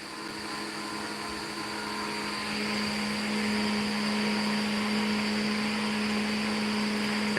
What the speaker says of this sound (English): I'm actually letting this print a couple layers to see how things are going.